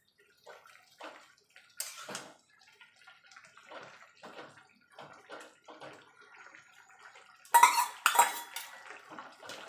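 Pumpkin leaf curry with potato and lentil nuggets being stirred in a pot, a metal spoon clattering and scraping against the pot in scattered strokes, with a louder burst of clanking near the end; no talking.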